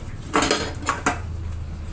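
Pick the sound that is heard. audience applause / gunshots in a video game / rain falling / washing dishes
washing dishes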